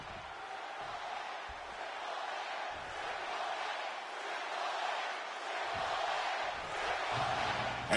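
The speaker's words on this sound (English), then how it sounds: "Crowd supporting Triple H here." A video game wrestling arena crowd in WWE 2K26 cheers in support of Triple H, a steady, distant wash of roaring spectator noise that holds throughout without breaks.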